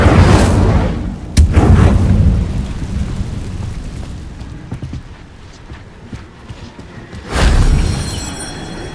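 An Incendio fire spell blasting in the video game Hogwarts Legacy, heard as loud booming whooshes with a roaring burst near the start and another near the end, and a rumbling rain-like wash in between.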